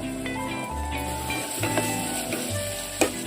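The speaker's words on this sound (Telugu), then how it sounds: "ఇప్పుడు పెద్ద ఉల్లిపాయలు కట్ చేశానండి అవన్నీ వేస్తున్నాను పచ్చిమిరపకాయ ఉల్లిపాయలు" Sliced onions and green chillies frying in a clay pot give a steady, close sizzle with light stirring clatter over a sustained tonal background.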